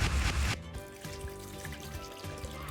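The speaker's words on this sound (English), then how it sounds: "add water." Water pouring into a Multo cooking machine: a short loud gush at the start, then a faint trickle and dribble continuing quietly for a couple of seconds.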